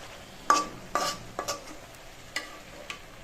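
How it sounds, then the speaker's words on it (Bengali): A spatula scrapes and clinks through cabbage frying in a pan, with a series of sharp stirring strokes over a soft, steady sizzle and no talking. "এখন এভাবে ভালোভাবে নেড়ে চেড়ে দিব। নেড়ে চেড়ে সবগুলো মিশিয়ে নেব।"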